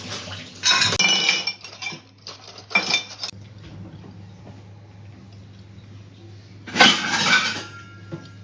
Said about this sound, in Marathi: काटावाला चमचा घे.